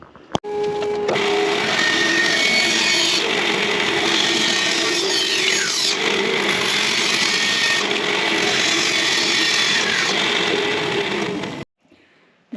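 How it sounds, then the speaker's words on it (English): Bandsaw trimming the corners off pieces of birdhouse wood, a loud steady whine with changing cutting tones for about eleven seconds, starting and stopping abruptly, close and with no talk. "I'm just going to bandsaw all the corners off."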